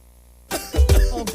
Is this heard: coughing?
yes